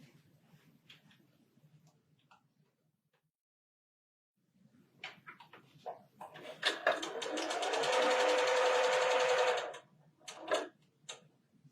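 A sewing machine stitches quilt patches using a 1/4 inch foot, starting with soft scattered ticks, then running in one loud continuous burr for a few seconds before stopping, followed by a few brief clicks.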